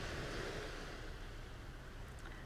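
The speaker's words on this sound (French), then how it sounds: "je vais vous inviter à savourer le doux bruit des vagues derrière moi" Calm sea with gentle waves breaking just behind the spot on the shore, a faint, steady wash of surf mixed with light wind noise and no voices.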